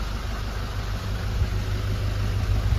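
A Nissan Urvan Estate E25 with a ZD30 diesel engine runs steadily after an injector replacement, its deep, even rumble sitting up close and constant with no talk over it.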